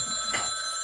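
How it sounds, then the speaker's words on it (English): A phone rings in one brief electronic trill with a steady tonal buzz, loud and close, lasting under a second. "Why are you saying hey before the phone rings?"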